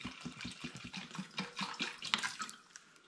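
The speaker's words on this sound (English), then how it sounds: "I'm going to add 1 litre of water on top of them." Tap water poured into a saucepan of chopped rhubarb, a steady close splashing and gurgling stream of liquid hitting the pan for about three seconds, alone with no voices.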